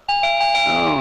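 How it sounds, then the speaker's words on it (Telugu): A doorbell rings once at night, a loud close two-tone chime that sustains and fades over about a second. "ఇది ఫోన్ బెల్ల కాదురా కాలింగ్ బెల్ల"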